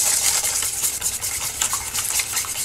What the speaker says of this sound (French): je casse les œufs. Je mélange avec le sucre ou la cassonade.